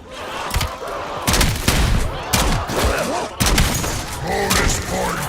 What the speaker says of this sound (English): concussion grenade out!